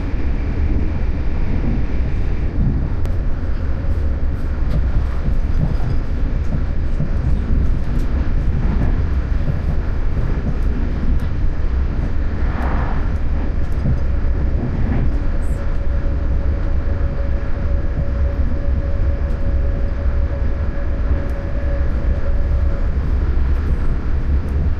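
Continuous heavy rumble aboard an Irish Rail train bound for Dublin Heuston, with another train rushing past in the opposite direction partway through; steady, loud and without talk.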